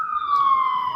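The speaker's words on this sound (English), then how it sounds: "so you hear the sirens?" A police or emergency siren wails loudly and steadily on a South Bronx street at 142nd Street and Brook Avenue, its strong tone gliding slowly downward throughout, close and sustained, with faint street rumble beneath and no talk.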